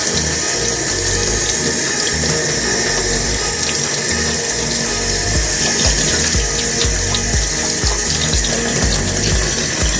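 A makeup brush rinsed under a running tap into a sink, the water rushing loud and steady throughout with faint splashing changes as the bristles pass through the stream, no talking.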